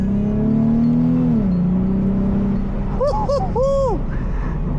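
A car engine revs with a rising, then falling harmonic drone that sags briefly, followed by several short whooping bursts of higher-pitched revs near the end over a steady road rumble.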